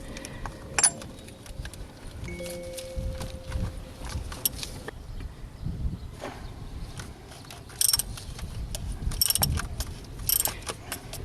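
Metallic clicks, ratcheting and small tool clatter from a wrench loosening a part during a full service on a BMW E46 318i, close and moderately loud, with sharp transient knocks scattered through a low mechanical background.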